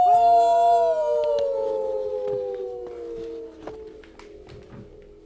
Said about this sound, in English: The baying of wolves sounded nearer and nearer